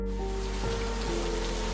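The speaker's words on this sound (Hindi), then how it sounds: "बहुत तेज बारिश हो रही है सर" Heavy rain pours steadily in a movie scene, a dense, continuous hiss of falling water that stays loud and unbroken throughout, with no voices over it.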